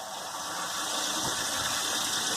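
Water is poured from a jug into a 2-litre bottle to dilute comfrey concentrate, giving a steady hollow gushing and trickling that rises slightly in pitch as the bottle fills, close and moderately quiet.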